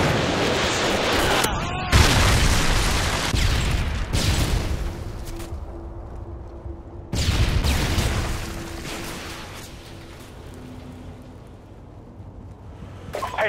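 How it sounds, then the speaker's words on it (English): A Predator missile explosion in the video game Modern Warfare 2: dense, heavy booms and rumbling blasts break over one another and fill the whole stretch, with a sharp cut and a second surge midway before it fades into a lower roar. "Friendly Predator missile inbound."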